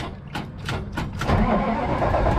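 A diesel car engine with glow plugs cranks in several quick, rhythmic turns, then catches and settles into a steady, rumbling idle close by.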